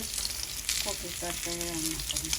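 Tilapia fish sizzles steadily in hot oil in a pan, a dense crackling hiss close by. Faint tonal clatter and background voices sit underneath.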